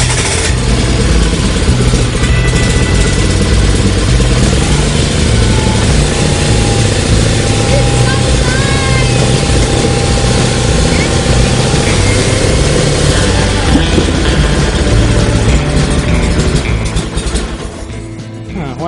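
An overhauled tractor engine runs loud and close after startup, a continuous rough chugging drone that holds steady, then eases and trails off near the end.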